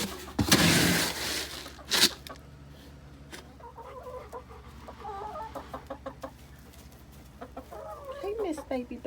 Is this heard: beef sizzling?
no